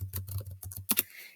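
A quick burst of typing on a computer keyboard, a dozen or so close, crisp key clicks in an uneven rhythm, ending in a couple of harder strikes, with no one talking.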